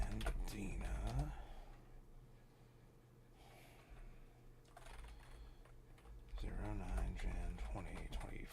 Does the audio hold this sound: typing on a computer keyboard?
yes